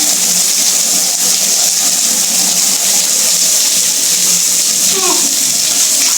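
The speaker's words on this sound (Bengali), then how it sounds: "বালতির কল বন্ধ করে দাও।" Water gushes steadily from a tap into a bucket during a family bath, a continuous bright rushing that fills the whole stretch, with a voice and other speech faintly over it.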